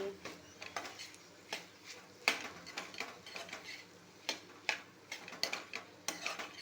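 A spoon scrapes and taps in a pan as okra curry is stirred with fresh grated coconut and coriander, giving a soft, irregular run of close clinks and scrapes.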